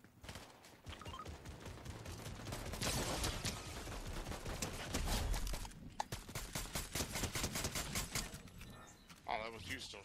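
Rapid gunfire bursts from a Fortnite match ring out in dense, repeated volleys, loud and close, with shots continuing almost throughout and a brief lull near the end, while a player talks over the action.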